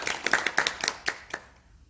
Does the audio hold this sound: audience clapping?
yes